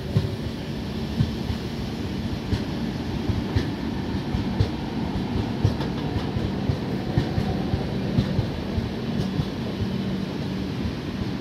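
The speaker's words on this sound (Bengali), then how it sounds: "হাওড়া রেলওয়ে জাংশন ছেড়ে মধ্যপ্রদেশের জব্বলপুর অভিমুখে এক্সপ্রেস ট্রেনটি যাচ্ছে।" The Up Jabalpur–Howrah Express moving along the line, a steady heavy low rumble with faint periodic clicks of wheels over rail joints, continuous and fairly close, no voices.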